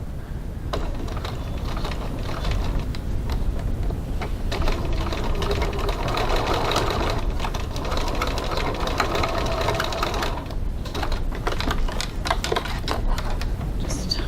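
A sewing machine stitches a 3/8-inch seam at a 3.4 stitch length, its rapid mechanical chatter running continuously and close for the whole stretch with slight shifts in pace.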